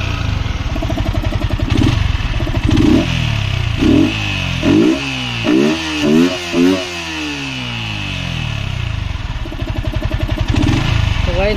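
Fully modified Yamaha R15M sport motorcycle engine idling with a fast clatter, then blipped through a series of sharp revs that rise and fall, loud and close, before settling back to a rough idle.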